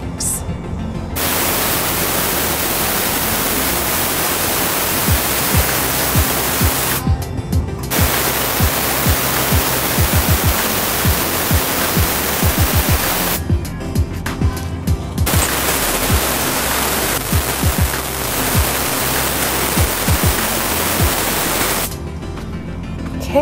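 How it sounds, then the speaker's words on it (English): Air brake tanks on a truck being drained as air and moisture escape in three long, loud, steady hisses, each lasting several seconds and separated by short silent gaps. "Okay, now we're gonna be draining our tanks."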